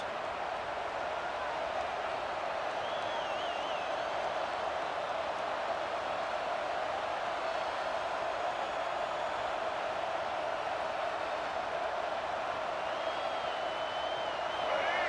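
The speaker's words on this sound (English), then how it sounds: "The crowd forces a false start." A steady, dense roar of a large stadium crowd in the video game College Football 26, SMU at Michigan State, loud and continuous throughout, with faint whistle-like tones rising above the noise.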